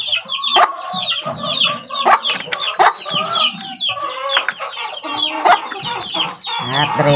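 A chick peeps in repeated high, thin chirps, mixed with clucking calls that come in quick irregular bursts, close and fairly loud.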